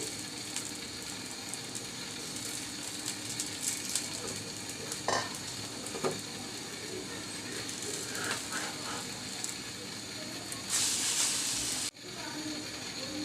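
Liquid egg paratha fries in oil on a pan, giving a steady close sizzle with scattered scraping and tapping sounds and a brief louder burst near the end.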